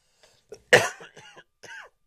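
A single sharp cough bursts out close by, framed by a few small throat noises and breaths in an otherwise quiet room.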